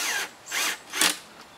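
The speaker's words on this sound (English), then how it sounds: "I've got it set on the lightest setting on the drill so it don't strip them out." Three brief, light whirs from a drill on its lightest setting driving screws into a bookcase, evenly spaced and close by, each stopping quickly as if driving a screw gently.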